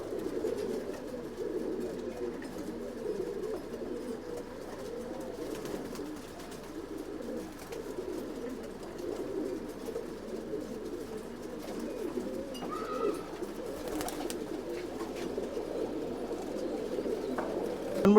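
Pigeons of an old bloodline kept for sale in Bangalore coo steadily in a low, continuous murmur throughout, with a few faint chirps and a voice speaking quietly at times.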